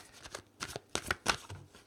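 Tarot cards are shuffled by hand in quick, close riffles and flicks, crisp papery bursts of uneven rhythm at low volume with no voices.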